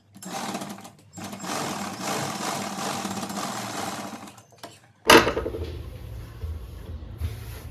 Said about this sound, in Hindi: अब हमने यहाँ पे फिर से सिलाई लगानी है।